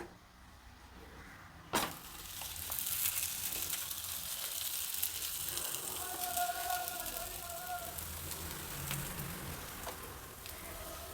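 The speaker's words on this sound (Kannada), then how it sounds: "ಹೆಂಚು ಬಿಸಿಯಾಗಿದೆ ಸ್ವಲ್ಪ ಎಣ್ಣೆ ಹಾಕ್ಬಿಟ್ಟು ರೊಟ್ಟಿ ಬೇಯೋದಕ್ಕೆ ಇಡೋಣ" Masala jowar roti frying in oil on a hot griddle, a steady crackling sizzle that starts with a sudden burst and stays dense and close for the rest of the clip, with faint background sounds.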